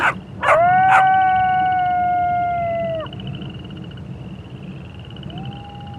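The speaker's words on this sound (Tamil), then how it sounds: "இந்த நாய்ங்க ரொம்ப கத்திட்டே இருக்கே" Dogs howl at night in a long, wavering chorus after a couple of sharp barks. A single howl rises again later against quiet background noise.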